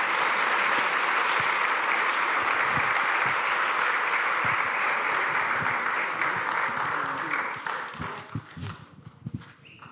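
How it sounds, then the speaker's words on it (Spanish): A church congregation applauds together at a service, dense sustained clapping filling the room for most of the time, then thinning into scattered claps and quieting near the end. "Parece si le damos un aplauso a nuestra hermana."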